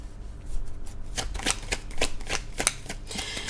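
Tarot cards are shuffled close by in a run of quick, crisp riffles and slaps, with irregular sharp snaps as the cards are handled.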